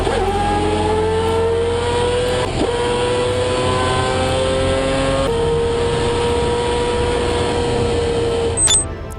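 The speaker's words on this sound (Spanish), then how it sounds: "El motor rotativo del Mazda seguía siendo una máquina delicada y exigente." Mazda 787B rotary-engine race car passes at racing speed, a loud, high, buzzing engine note holding steady, dipping at a gear change and rising again, with a brief sharp click near the end.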